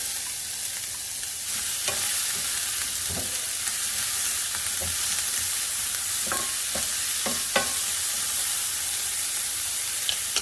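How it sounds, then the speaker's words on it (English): Onions fry in preheated cooking oil with a steady, quiet sizzle, broken by occasional soft clicks and scrapes of stirring; no one speaks. "I'm gonna let the onions cook first and give them a head start."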